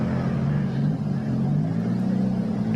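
Several rally cars idle on the starting grid, their engines holding a continuous deep rumble at a steady level for a few seconds, with no voices.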